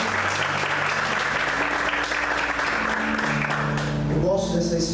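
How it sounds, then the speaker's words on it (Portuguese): A church congregation applauding during a Christmas Eve service, loud sustained clapping over a held musical tone, with a voice and music emerging near the end. "Vamos aplaudir o Senhor."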